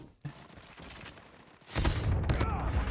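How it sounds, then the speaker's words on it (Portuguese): Gunfire from the mobile shooter game Call of Duty Mobile: a quiet stretch with a faint sharp crack near the start, then a loud burst of rapid shots and booms during the second half. "O cara deu um tiro e nem morri."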